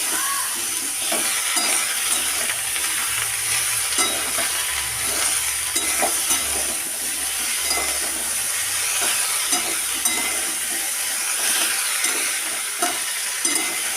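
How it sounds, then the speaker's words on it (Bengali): Plantain bananas frying with turmeric-coated potatoes in a pan, giving a steady loud sizzle with stirring scrapes and clatter throughout and no talking. "এই কলাগুলোকে আমি হলুদ দেওয়া আলুর সাথে আরও ভালো করে ভেজে নিতে হবে"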